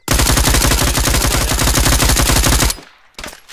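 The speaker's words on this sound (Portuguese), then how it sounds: "eu tô tomando tiro" Dense automatic gunfire from an Arma 3 battle royale match, a loud, continuous rapid rattle of shots for nearly three seconds that cuts off abruptly, followed by a brief quieter burst.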